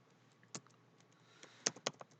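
Scattered keystrokes on a computer keyboard while C# code is written: a few isolated, sharp clicks followed by a quick cluster of taps, close and fairly soft.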